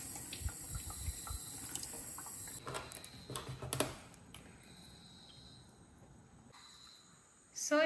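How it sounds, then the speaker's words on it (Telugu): Running tap water washes a pomfret fish cleaned with salt and turmeric in a kitchen, a soft steady splashing that swells briefly midway and fades to quiet near the end. "ఇప్పుడు వాటర్తోని వాష్ చేసుకుంటున్నాం"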